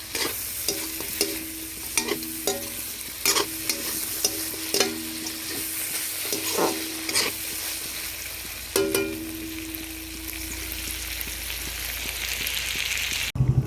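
Pressure-cooked black gram dal is stirred into a pan for a country chicken curry, with close, repeated scraping and clinking stirs over a soft, continuous sizzle and no talking.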